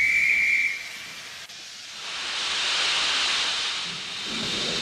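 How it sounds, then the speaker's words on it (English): A railway guard's whistle gives one shrill, steady blast at the start, then steam hiss swells from a locomotive and brake van preparing to push a train. "The guard blew his whistle."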